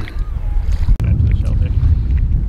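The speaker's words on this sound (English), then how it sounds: "So it's getting a little windy." Gusty wind buffets the microphone on an exposed mountain hiking trail, a steady low roar with a brief dropout partway through.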